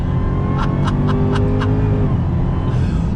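A 2021 Dodge Charger Hellcat Redeye with 797 horsepower launching from a stop on damp road, engine roaring loud and steady while wheels spin, rising then falling pitch with a few sharp chirps.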